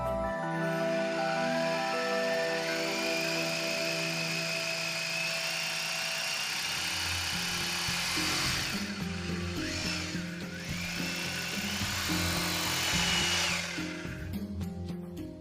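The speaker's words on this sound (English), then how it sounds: "make holes in the wall using an appropriate drill bit." A power drill whines continuously at high speed, its pitch shifting as it bites into a wall drilling holes, loud and close throughout.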